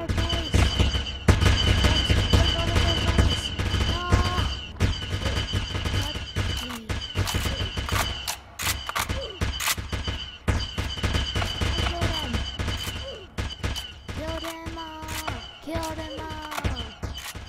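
Dense, continuous gunfire and explosions from a shooter video game battle, with layered bursts and booms throughout, under tense game sounds and occasional effects.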